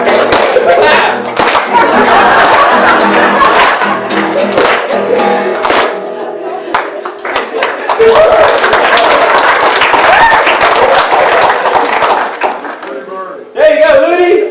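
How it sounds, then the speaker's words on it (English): An audience claps along at a live play, loud close-up rhythmic clapping in bursts with people talking and laughing between and over it. "Put your hands together."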